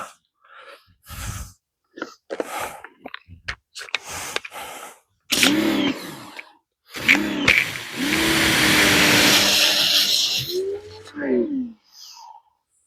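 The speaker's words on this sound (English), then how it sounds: "New pressure washer, why not test it out?" A newly bought pressure washer runs in a garage workshop with a steady, loud motor drone of several seconds, preceded by scattered clanks and short bursts of handling noise.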